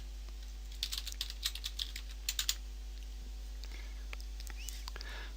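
Quick, quiet clicks of a password being typed on a computer keyboard, about a dozen close keystrokes in a burst over a steady low electrical hum, then a few softer taps.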